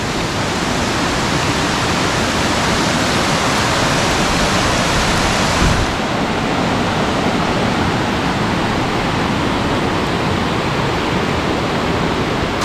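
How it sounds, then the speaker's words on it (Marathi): Rainwater pours and rushes outside a bungalow in a steady, loud broadband wash that fills the whole stretch, with a slight shift in texture about halfway through. "आता इकडे पावसाचं पाणी बघा कसं वाहतो आहे बघा"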